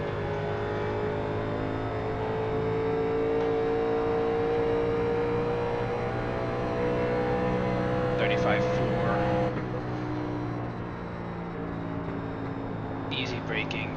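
A 1987 NASCAR race car circles Kentucky in iRacing, its engine droning loud and steady as it pulls through the lap, with a brief rise in pitch under the throttle. A voice talks softly over the engine.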